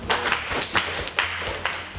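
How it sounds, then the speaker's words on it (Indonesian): An audience at a bank's kick-off meeting gives a short, close burst of clapping, a few scattered sharp claps in an uneven rhythm rather than full applause. "tepuk tangan."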